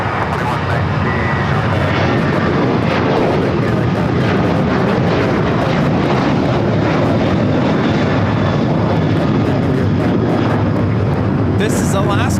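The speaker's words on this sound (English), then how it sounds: "This is Alaska Airlines 1305 taking off to Seattle on the 737-800." An Alaska Airlines Boeing 737-800 takes off from LAX, a loud, steady jet roar that fills the whole stretch and holds near constant, with faint voices underneath.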